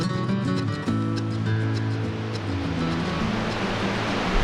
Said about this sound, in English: It's a really nice waterfall.